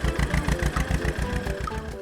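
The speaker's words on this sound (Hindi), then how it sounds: "ट्रैक्टर लेकर खेत के पास आया" A cartoon mini tractor's engine chugs as it arrives at a field, a fast, regular putt-putt of loud low engine beats running steadily close by.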